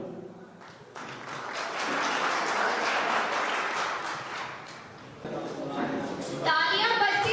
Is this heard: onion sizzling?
no